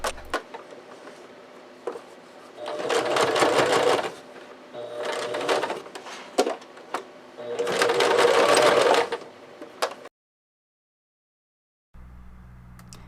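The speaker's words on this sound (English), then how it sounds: "you can sew them down by hand, or you could just do it on the machine like I am doing." A sewing machine stitches down the mitered corners of a fabric potholder in a few sustained runs with short pauses between, loud and close, then stops to near silence before a faint, low hum.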